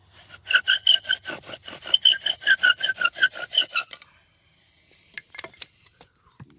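Rhythmic back-and-forth rasping of a bow drill spinning a wooden spindle against a fireboard, about a dozen quick strokes, then stopping into faint scrapes and small knocks.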